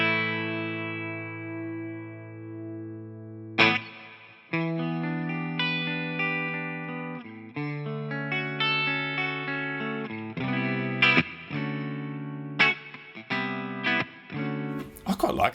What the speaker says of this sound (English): let's add some reverb. What about plate? I like plate reverb.